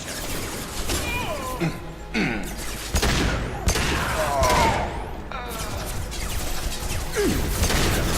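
Gunfire in the Mass Effect 2 video game: sharp shots and crashing impacts recur through a busy firefight, with voices talking over the combat.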